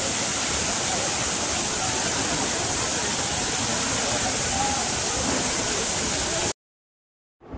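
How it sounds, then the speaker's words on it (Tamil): A loud, continuous roar of the Agasthiyar waterfall, dense and close, holding steady for several seconds before cutting off abruptly. "சூப்பரான ஒரு அருவி பார்த்துங்க."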